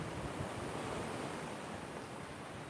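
Ocean waves crash in a steady, soft, even wash of surf, heard distant and alone without any speech.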